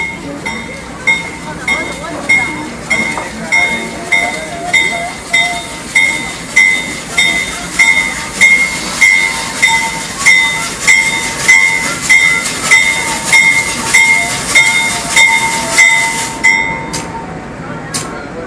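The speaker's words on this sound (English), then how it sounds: "Nice train." A train on the New Hope & Ivyland Railroad in New Hope, Pennsylvania rumbles past with a steady rhythmic clickety-clack of wheels on rail joints and a faint high ringing tone, loud and close throughout.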